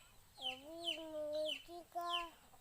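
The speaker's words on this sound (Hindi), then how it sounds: "मुर्गी को खेद रहा हूँ" A hen clucking and squawking while being chased, giving several short, agitated calls in quick succession, fairly faint and close, with no talking.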